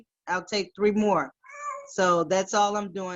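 An elderly cat, about 19 years old, meows several times in a row, loud and close, between and over a person speaking.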